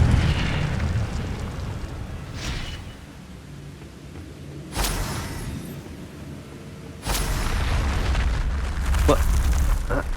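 An Incendio fire spell erupts in Hogwarts Legacy with loud bursting whooshes, two strong blasts spaced a few seconds apart over steady rumbling game ambience and no speech.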